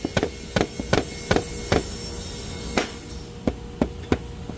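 Hammer tapping on a wooden cabinet door with care, about ten sharp taps spaced irregularly, some in quick pairs, fairly close against a faint room hum, with no talking.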